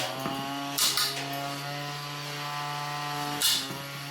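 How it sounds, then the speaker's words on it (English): The motor of a 3D printed combat robot whines at high pitch as it spins up to speed, a steady tonal hum punctuated by short hissing bursts, fairly quiet and close. "With the motor actually secured to the chassis, however, I was able to properly get it up to speed, and it's pretty terrifying."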